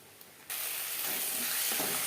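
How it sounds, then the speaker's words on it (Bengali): Spices frying in hot oil over a low flame for a Bengali shol fish curry, a soft steady sizzle that jumps louder halfway through and continues close by, with no talking. "লো ফ্লেমে ভাজবো যতক্ষণ না পর্যন্ত মশলা থেকে স্মেল বেরোতে শুরু করে দেয়"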